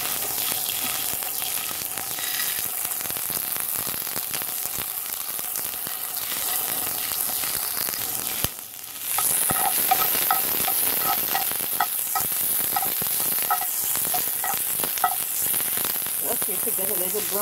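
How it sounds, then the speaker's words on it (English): Onion and garlic sauté in a pan for Guyanese-style sardines with a loud, crackling sizzle throughout. A brief dip near the middle breaks the sizzle before it surges back even stronger, with stirring scrapes mixed in. "fry up this garlic and onion first. Saute the onion and garlic."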